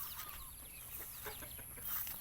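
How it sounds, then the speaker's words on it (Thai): Chickens foraging outdoors in rural Korat, Thailand, after heavy rain, with soft scattered clucks over a steady hiss of background noise. "ไก่มาหากิน"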